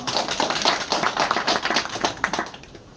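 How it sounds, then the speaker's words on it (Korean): Audience at a Free Village launch ceremony in Sangju, Gyeongbuk, clapping for a speaker, a close, lively patter of individual claps with an uneven, pulsing rhythm. "대표님께 다시 한번 박수 한번 부탁드립니다"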